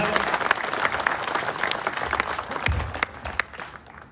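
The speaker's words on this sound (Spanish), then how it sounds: "fuerte el aplauso aquí para las pequeñas grandes artistas." Loud, sustained audience applause fills a televised kids' singing competition after two young performers finish. The clapping stays dense and steady throughout, with scattered crowd noise in the mix.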